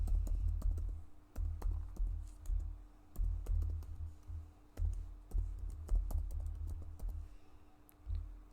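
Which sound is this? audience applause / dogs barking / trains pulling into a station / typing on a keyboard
typing on a keyboard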